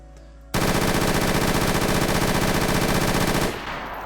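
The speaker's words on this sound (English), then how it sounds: "if I actually use this in the 4x mode and try and go in full auto" Full-auto rifle fire fitted with an ACOG scope in the video game DayZ: a loud, rapid, continuous burst lasting about three seconds, close and alone, with quieter game ambience before and after.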